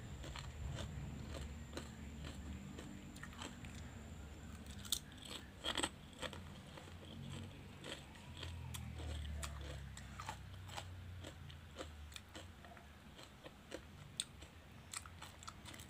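Crisp, irregular crunching of homemade fried spinach leaf chips being bitten and chewed up close, sharp snaps scattered among softer chewing over a quiet background.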